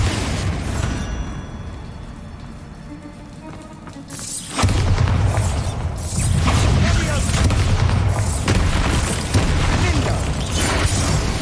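Spell explosions from the Bombarda, Incendio and Confringo casts in the PC game Hogwarts Legacy, fought against spiders: a quieter stretch, then a heavy booming burst about midway followed by a sustained rumbling roar with further impacts.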